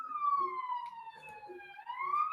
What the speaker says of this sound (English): There's an ambulance coming for me again.